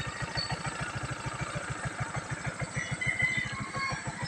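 A motorcycle stuck in deep mud runs its engine in a steady, rapid chugging pulse that stays close and even throughout, with no voices.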